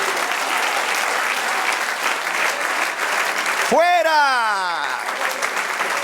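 Church congregation applauding the Lord during a worship service, steady dense clapping throughout with a voice rising briefly over it partway through.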